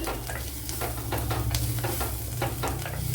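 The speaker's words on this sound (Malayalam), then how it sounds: "ഇവിടെ സവാള കുറേയൊക്കെ വഴണ്ട് വന്നിട്ടുണ്ട്" Onions sautéing in a pan for a cauliflower curry crackle and sizzle steadily, with repeated scraping strokes of a spoon stirring through them in an uneven rhythm, close and fairly loud, no talking.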